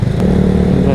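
A motorcycle with a big aftermarket exhaust revs on a road near a floodway, its loud, steady low engine rumble filling the whole second, close by and continuous.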